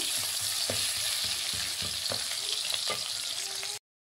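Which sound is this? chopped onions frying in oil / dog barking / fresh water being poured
chopped onions frying in oil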